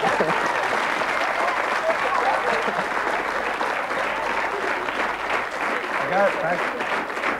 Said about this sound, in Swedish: Varma applåder